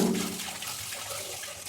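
Borewell tap water runs into a wash basin sink during scrubbing and washing, a steady close splashing flow with faint trickles, with no talk.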